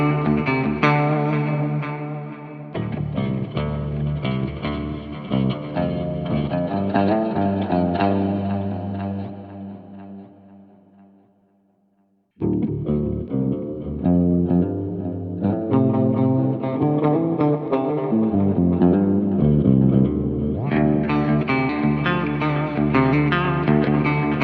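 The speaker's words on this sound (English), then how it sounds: "So when you use the Bigsby with bass, the high frequencies will start to introduce some artifacts" Bass guitar played through a GameChanger Audio Bigsby vibrato pedal, sustained notes and chords warbling with pitch bends, a brief drop to near silence midway before the playing resumes loud and thick.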